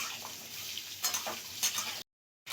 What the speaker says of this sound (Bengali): আলুগুলোকে মিনিট 5-এর মতন খুব ভালো করে ঢাকা চাপা দিয়ে ভেজে নেব